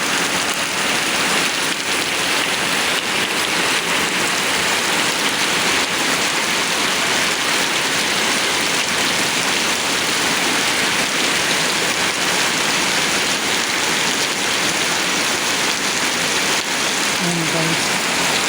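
Heavy typhoon rain pours down in a dense, unbroken roar, loud and steady throughout with no pauses.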